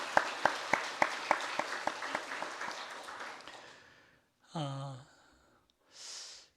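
Korean church congregation claps for elderly parents in a run of sharp, evenly spaced claps that thin out and fade, followed by a brief voiced sound and a soft breathy noise.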